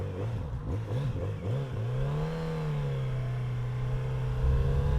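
A 2019 Kawasaki Z900RS Cafe motorcycle engine runs while riding, revving up through a few quick rises, then settling into a steady, smooth drone that grows slightly louder near the end, with wind noise and no talk.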